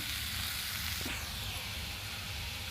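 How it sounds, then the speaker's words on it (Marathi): Ridge gourd sautéing in hot oil gives a steady, close sizzle with a continuous bright hiss throughout, and a soft stir or scrape partway through. "मऊ होईपर्यंत आपण परतवून घ्यायचे तेलावरती"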